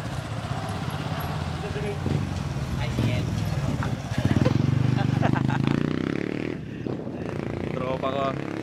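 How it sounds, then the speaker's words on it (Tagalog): Ride on a Philippine tricycle, a motorcycle with a sidecar, its small engine rumbling and rattling steadily close by while someone talks over the noise. "Sakay pala ako tricycle."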